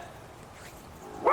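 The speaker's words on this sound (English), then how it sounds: "I don't know what he's barking at" Max the dog barks briefly at close range near the end, a short sharp yip after a quiet stretch of outdoor background in a garlic garden bed.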